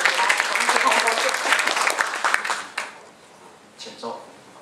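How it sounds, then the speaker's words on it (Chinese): Audience applause at a Chinese-language gathering of a naturopathy society, a dense burst of clapping that fills the first three seconds and then fades into scattered claps and room noise. "掌声鼓励来"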